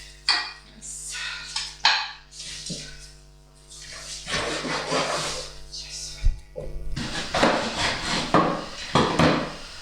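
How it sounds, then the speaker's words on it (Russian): Duck meat is chopped into smaller pieces with a knife on a board, sharp irregular thuds and knocks coming in quick bursts, close and fairly loud. "Сейчас я эти кусочки еще измельчу."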